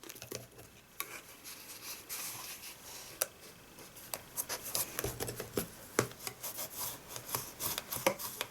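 A bone folder creasing and pressing a handmade paper gift box sealed with double-sided tape, giving soft, quiet rubbing and scraping strokes with small taps, growing busier and more rhythmic toward the end.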